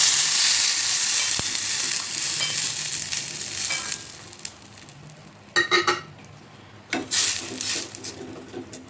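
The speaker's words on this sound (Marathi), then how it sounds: "त्यामध्ये घालायचं आता पाणी." Water is poured into a hot tempering with asafoetida and coriander for besan dhokla, a loud hiss and sizzle that fades and then gives way to a few sharp splashy bursts and stirring.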